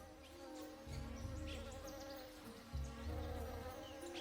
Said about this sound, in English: Luring in male orchid bees from as far as 30 miles away.